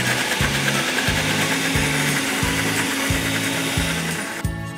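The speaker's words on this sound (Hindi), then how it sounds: "ब्लेंड कर लेंगे।" A kitchen blender purees half-cooked chicken for a desi chicken curry, its motor droning loudly and steadily with rhythmic pulsing chops as the blade churns, then cutting off abruptly at the end.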